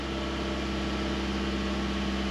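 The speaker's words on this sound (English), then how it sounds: "See how when I turn the AC off, it idles all the way up to 2." Engine of a 2002 Honda Accord with an idling fault, running at idle with the air conditioning switched off, a steady close hum with a low pulsing drone and no voices.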